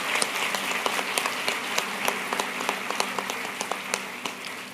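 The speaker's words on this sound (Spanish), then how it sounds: "te damos un fuerte aplauso" Audience applause at a spiritual leadership panel, steady clapping from a sizable crowd with distinct individual claps standing out, holding through the clip and easing slightly at the end.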